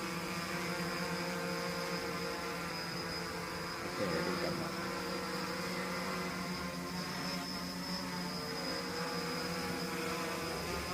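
A 330-size quadcopter drone is flown in manual mode, with a steady, close, high-pitched motor buzz that holds throughout and shifts slightly in tone as it is steered, while a voice briefly speaks.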